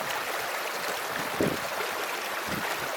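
Water streams rush and flow continuously in the Plynlimon hills of Wales, a dense, steady, broadband wash heard alone, with one brief splash or knock partway through.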